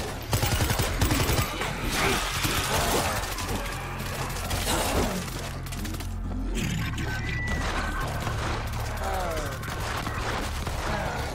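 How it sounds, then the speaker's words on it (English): Dense, chaotic gunfire from the zombie shooter game World War Z in Tokyo, with rapid bursts, crashes and mechanical clatter layered over a low rumble, loud and continuous, with faint voices mixed in. "Sounds like those shots came from the bus."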